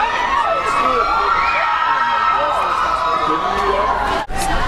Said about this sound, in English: All the girls are like screaming.